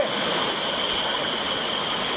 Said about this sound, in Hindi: देखिए ऊपर से पानी गिर रहा है, ये एकदम शुद्ध।